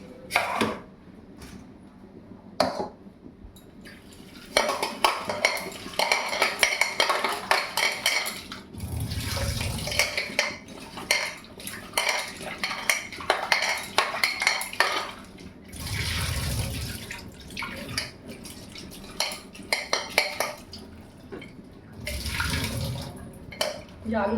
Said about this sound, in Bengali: আলু ধোয়া হলো, বেগুন ধোয়া হয়ে গেছে